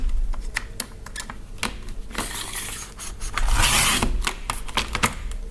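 Card stock for card making is cut with a trimmer, sharp clicks and ticks followed by a longer scraping slice, close and moderately loud.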